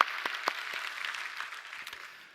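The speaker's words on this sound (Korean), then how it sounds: "우리 박수로 서로 한번 격려합시다" A church congregation at Sunday worship applauding together, brisk clapping that tapers off and fades within a couple of seconds.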